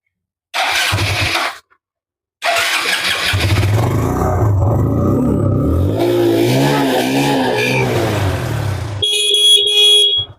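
A secondhand Hero Glamour motorcycle at a bike showroom in Baisinga, Mayurbhanj, Odisha starts with a brief burst, pauses, then fires up and idles loudly before revving near the end, close by.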